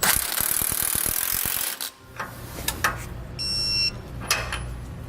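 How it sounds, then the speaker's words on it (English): A socket ratchet tightens a shock bolt lock nut on a 2017 Coachmen Pursuit motorhome, a quick run of close, sharp pawl clicks followed by softer mechanical clunks and a brief high-pitched beep, with no voices. "Now we'll get these tightened down and torqued."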